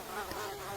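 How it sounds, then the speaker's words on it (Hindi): Mosquitoes buzz in an animated family story about a summer heat and a homemade brick cooler, a steady close whine with no talk. "इन मच्छरों ने गर्मी में काट काट कर सारा खून पी ही लिया है।"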